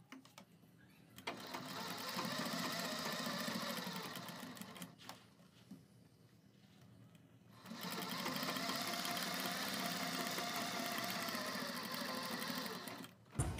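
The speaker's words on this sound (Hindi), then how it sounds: "अब हम यहाँ एक पैर की सिलाई लगाएंगे।" A sewing machine stitches a pressed kurti collar in two steady, loud whirring bursts, separated by a quieter pause of a few seconds, with no talking.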